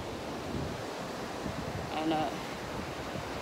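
Surf washing onto a beach during a holiday stroll, a steady broadband wash with wind buffeting the microphone and a brief voice in the middle.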